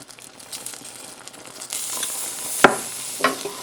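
Vanilla stirred into hot caramel in a pan, heard as a light sizzle that swells louder partway through, with a couple of sharp scraping clicks from the utensil near the end, close and with no speech.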